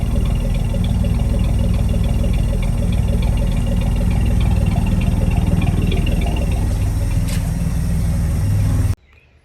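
A 1983 Ford F100 truck engine idles steadily with a freshly fitted carburetor, a continuous low rumble with even mechanical vibration, close and loud, running alone until it cuts off abruptly near the end.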